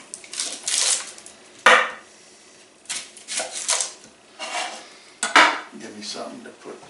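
A knife chops an onion on a cutting board for homemade chili, several bursts of quick rhythmic chopping strokes with sharp taps, close and clear, separated by brief pauses.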